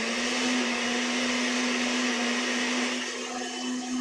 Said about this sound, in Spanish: esperemos que esto funcione y no se rompa la licuadora